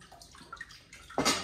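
Water runs from a tap into a cooking pot for boiling pasta water, a short splash that starts quietly and then rushes louder at the end.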